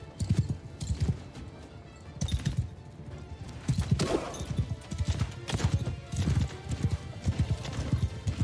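A horse ridden in a Warhammer mod battle gallops in a rapid, continuous clip-clop rhythm, close and loud, with brief crashes and battle noise mixed in around it.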